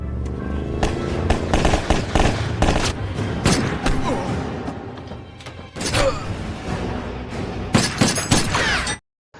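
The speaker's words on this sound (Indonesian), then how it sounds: "diikuti dengan sebuah mobil hitam yang langsung mengarahkan tembakan pada si John." Rapid volleys of sharp gunshots fired from a car crackle in bursts over a busy, roaring background, with louder clusters of shots near the middle and end, in a film.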